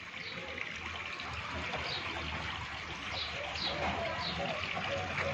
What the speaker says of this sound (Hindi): और देखिएगा पानी कैसा आ रहा है रोडों पे और मेरे घर के सामने।